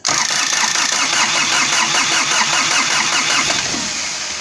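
A diesel engine on a 2007 Toro 3500D Sidewinder mower cranks and fires over, running loud and close with a steady rough chugging throughout.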